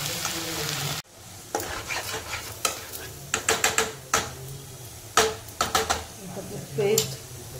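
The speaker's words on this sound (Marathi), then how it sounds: "व्यवस्थित परतून घेऊया।" Ground tomato and onion paste sautéing in a pan for matar paneer masala: a spoon scrapes and taps the pan in quick irregular bursts over a soft sizzle, close up, with no talking.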